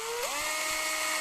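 A small high-speed drill bores through a sunset jasper gemstone heart, its thin, piercing whine briefly rising in pitch and then holding steady, loud and close.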